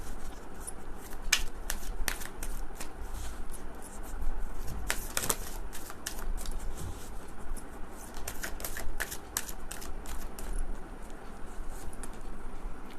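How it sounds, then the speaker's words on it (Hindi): Hand shuffling of tarot cards, a continuous patter of soft papery riffles and taps that runs the whole time at close range, with no talk. "ओके कार्ड्स मैं निकालूंगी"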